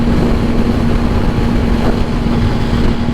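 Motorcycle engine holding 5th gear on a highway, a loud, steady low drone with wind rush close to the rider, no talking.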